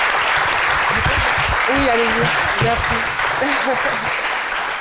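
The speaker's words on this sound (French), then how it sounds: "Merci de l'applaudir très fort." An audience claps steadily through a live midday show while a voice speaks briefly over the applause, which softens slightly near the end.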